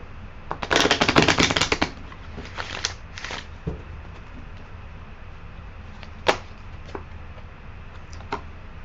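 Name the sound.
tarot cards being shuffled and pulled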